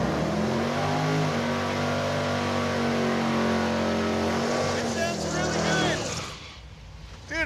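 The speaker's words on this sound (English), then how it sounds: "I predict a very, very rowdy burnout out of Mr. Freiburger right now" At a drag strip, a muscle truck roars through a rowdy burnout, its engine held at a high, loud, sustained pitch for several seconds before cutting off sharply near the end.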